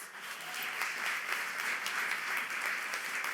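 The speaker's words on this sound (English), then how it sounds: "let's give Sean another round of applause" Sustained audience applause at a government department's golden anniversary ceremony, steady dense clapping from a sizeable crowd filling the whole stretch, with no talk over it.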